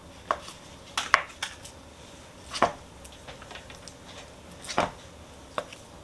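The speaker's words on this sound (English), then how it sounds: "now I'm going to break up the butter" Softened butter is broken up in a large bowl, with a handful of sharp, scattered clinks and knocks of a utensil against the bowl over a quiet background.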